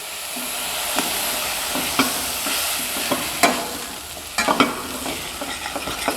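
White wine deglazing a sauce pan, a steady hiss of sizzling with irregular scraping taps from a stirring utensil against the pan, close and fairly loud, no voices.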